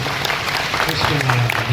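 Audience clapping in praise of the deity Viramdevji Maharaj at a Ramdevpir wedding celebration, a short burst of dense, steady applause mixed with crowd voices.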